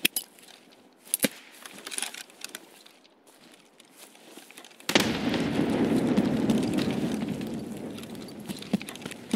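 A grenade blast in the shooter game Escape from Tarkov: a sudden heavy boom followed by a long, loud rumbling roar that fades slowly, after a stretch of quieter scattered clicks and thuds.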